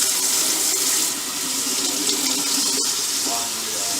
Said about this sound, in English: get some hot water running on the sink and on the colander to get the grease off before it dries up